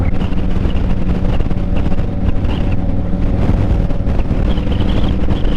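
A vehicle drives across the Mackinac Bridge, a loud continuous road rumble with deep droning engine tone and gusting wind noise, steady throughout with no voices.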